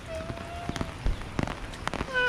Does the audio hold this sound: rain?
yes